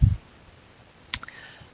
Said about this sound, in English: I might click the clear cache button just in case and click Run Query